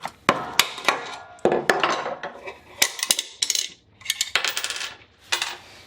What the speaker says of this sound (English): I'm going to grab a hammer and a screwdriver to knock this out